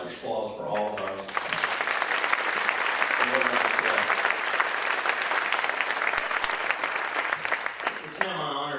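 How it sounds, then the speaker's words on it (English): A luncheon audience at the 2014 Alabama Humanities Foundation awards breaks into sustained applause, a full, even roar of clapping lasting several seconds, with a speaker's voice briefly before and after. "How about one more round of applause for all of us?"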